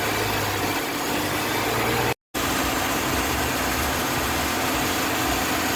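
A high-mileage 2009 Chevy Impala engine runs steadily at a raised idle near 2,000 RPM during a Seafoam treatment, a loud continuous hum with a brief dropout partway through and no talking.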